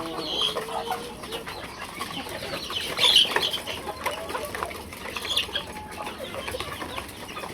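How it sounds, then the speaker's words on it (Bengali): A jet-black rooster, a breeder bird of a hill breed, clucks among other chickens, with scattered clucks close by and a brief flutter of wings partway through. "পাহাড়িদের মেন ব্রিডার একদম পুরো কালো কুচকুচে মোরগ"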